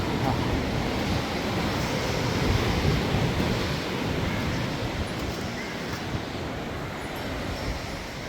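Sea waves wash steadily onto Varkala Black Beach on the Arabian Sea in a constant roar, with gusts of wind buffeting the microphone.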